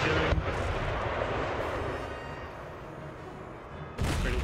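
Cannon and artillery fire from a naval battle in Empire: Total War rumbles as a dense, sustained barrage of booms, with a sharp loud blast near the end.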